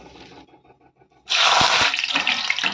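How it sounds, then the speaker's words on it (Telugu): Curry leaves go into hot oil while frying peanuts for an okra fry. A quiet stretch gives way to a sudden, loud, crackling sizzle that stays strong and close. "ఇప్పుడు కరివేపాకు కూడా వేయించి తీసేసుకోవాలి."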